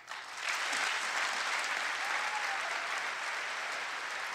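Sustained applause from a large audience in a legislative chamber during the 2018 State of the Union address, a dense steady roar of clapping that swells quickly and holds for several seconds.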